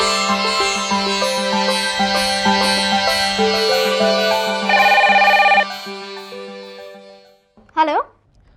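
A phone ringtone plays as a tonal melodic ring at steady loudness, with a brief louder burst midway, then stops, followed by a short sweeping sound near the end.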